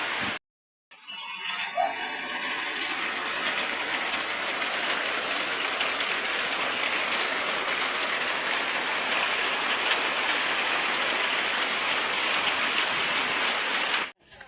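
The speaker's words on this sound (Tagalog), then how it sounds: "Pumasok yung ulan. Medyo maulan dito sa loob ng bahay ngayon." Heavy rain pouring into a house through a gap, a steady dense hiss of water and splashing that runs loud and unbroken for most of the stretch after a brief silent start.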